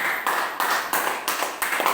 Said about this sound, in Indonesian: tepuk tangan untuk kelompoknya Claudia